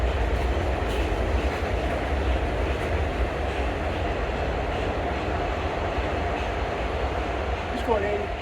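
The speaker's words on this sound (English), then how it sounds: "if you hear any trains in the background, just don't mind them outside." Steady loud rumble of trains passing outside on a subway line, continuous rolling rail noise and clatter throughout with no break.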